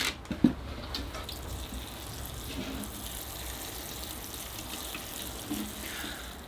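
Water trickles and splashes steadily, like a can or hose pouring onto soil around newly planted Pyrenean and Holm oak bonsai, with a couple of soft knocks near the start.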